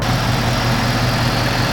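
A 2017 Ford Mustang's 5.0 V8 idles close up with a steady, deep, even rumble and no talk.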